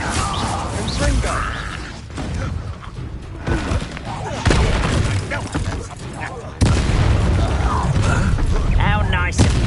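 The Confringo fire spell in Hogwarts Legacy goes off in heavy booming blasts and crackling impacts during combat, loud and dense, layered with game voices shouting over the din.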